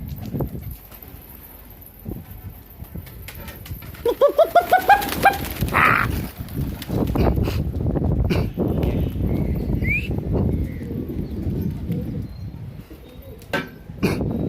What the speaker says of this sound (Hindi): ये कबूतर है अपने